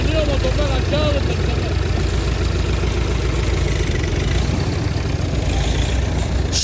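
A Tümosan tractor engine runs steadily in a forest, a continuous low rumbling drone heard up close. Voices speak over the engine for part of the time.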